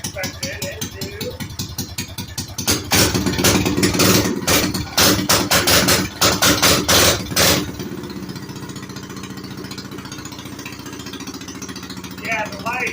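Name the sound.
Coleman 196cc minibike engine with custom exhaust pipe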